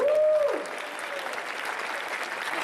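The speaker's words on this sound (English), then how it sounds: "Let's keep the round of applause going" Applause at a hackathon opening ceremony for a Raspberry Pi prize winner, a broad wash of crowd clapping that continues steadily after a brief whooping cheer at the start.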